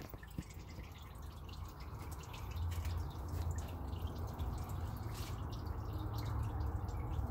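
Engine oil drains steadily from a 2015 Subaru Impreza into a catch pan, a continuous trickling and dripping that holds near and even, growing slightly fuller partway through, with no voices.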